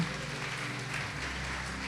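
A church congregation claps to glorify the Lord, giving a steady, dense patter of many hands. It is soft and somewhat distant over a low steady hum, and no one speaks.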